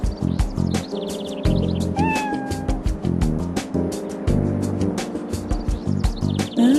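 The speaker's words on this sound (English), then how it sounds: "Kitty doesn't seem well. Can you fix her, please? A cat?" A cat meowing in the video game Trauma Team, several clear, close meows and whining calls over game background music.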